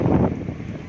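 Strong wind gusting during worsening stormy weather near an old Hindu temple in Rasool Nagar, Wazirabad, a dense roaring rush buffeting the microphone, loud and close with no voices.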